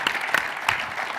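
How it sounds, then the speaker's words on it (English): An audience at an executive symposium gives a short round of applause, a close, moderately loud patter of clapping with a few sharper claps standing out. "let's give them a big round of applause for doing a great job."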